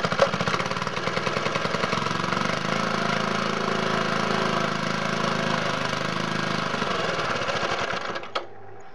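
A small engine fueled with homemade distilled fuel runs steadily at a rapid, buzzing idle for about eight seconds, loud and close, then cuts off abruptly near the end.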